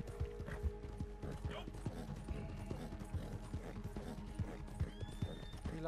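Hooves of a cart horse clip-clop steadily at close range, a regular rhythm of knocks running through the whole stretch, with a brief whinny-like squeal near the end and people talking over the top.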